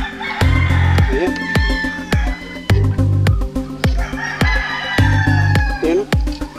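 Loud, close gamefowl roosters on a game farm crowing repeatedly over steady clucking from a crowd of hens, with sharp clicks and shuffling nearby.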